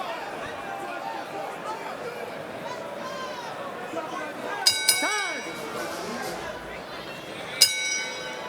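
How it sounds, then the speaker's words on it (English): A boxing ring bell ending a round in a championship fight rings out with a few bright metallic dings over steady ringside commentary and crowd noise. "Listen for the bell."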